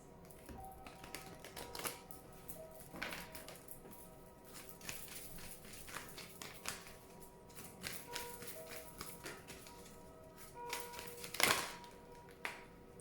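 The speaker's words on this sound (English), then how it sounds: "as I shuffle the cards" Soft, irregular taps and riffles of tarot cards being shuffled by hand, quiet and close, with an occasional sharper snap.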